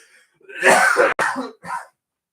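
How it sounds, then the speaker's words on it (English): A person coughs in a harsh, throaty burst, a brief break, then a softer final cough, close and loud with nothing else around it. "laughing like that made me cough"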